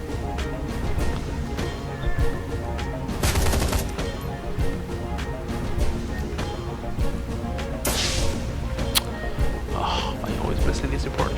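Gunfire crackles in the video game Shadowrun: Hong Kong, with repeated sharp shots and bursts over a layer of game effects. A voice talks over much of the action.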